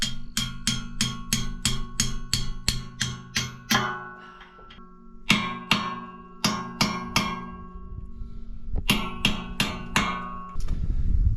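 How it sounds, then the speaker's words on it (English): Sharp metallic hammer blows strike a bent metal cover plate to straighten it, coming in quick rhythmic bursts of close, ringing clangs separated by short pauses. "My buddy Troy would be impressed with my hammering skills over here"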